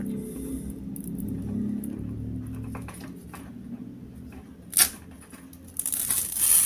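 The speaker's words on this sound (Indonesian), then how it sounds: "sekarang kita sobek ya untuk mulai membuat cangkang ketupat" A strip of ketupat palm leaf being torn to make a woven casing gives a close, dry ripping rasp over a low background hum, with a sharper crackle partway through and a louder rustle at the end.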